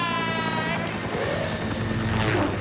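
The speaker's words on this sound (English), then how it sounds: "Except maybe Buttsquat in a helicopter with a tennis ball gun." A cartoon helicopter drones steadily with a buzzing rotor hum, loud and close for the whole stretch, with no talk over it.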